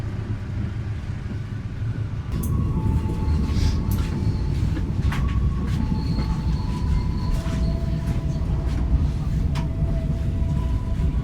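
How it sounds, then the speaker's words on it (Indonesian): The Serayu passenger train departs Manonjaya station in Indonesia, rumbling steadily past at close range, wheels clattering on the rails with faint high squeals and tonal whines over a low continuous roar. "kereta api Serayu diberangkatkan dari stasiun Manonjaya"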